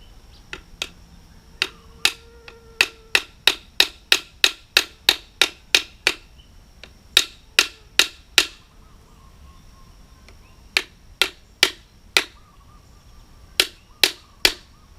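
Sharp repeated knocks while tapping a cap into place on a handmade bamboo crossbow, crisp wooden clicks in fast regular bursts of five to ten strikes separated by short pauses, close and clear in a quiet setting.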